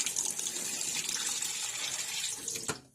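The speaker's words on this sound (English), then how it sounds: "I'm gonna drain off a little bit of the liquid" Liquid drains from a freshly opened can into a sink, a steady close pouring splash that runs for a few seconds and stops abruptly, with no talking.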